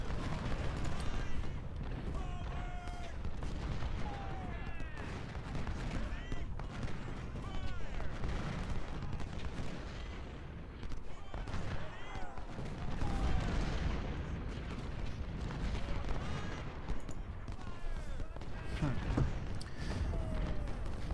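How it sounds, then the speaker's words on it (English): Artillery booms in the Civil War strategy game Ultimate General: Civil War, scattered and somewhat distant beneath someone talking steadily over the battle. "Basically just artillery on this flank."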